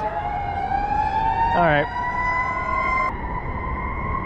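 A siren from a distant police car or fire truck wails in a steady rising tone near water at sunset, faint and far off, and someone speaks briefly over it.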